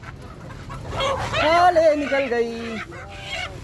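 Golden Misri chickens clucking and squawking close by, a loud flurry of rising, wavering calls in the middle with quieter clucks after, while someone speaks briefly over them.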